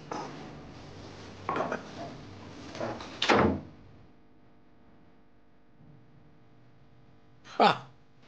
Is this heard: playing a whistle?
no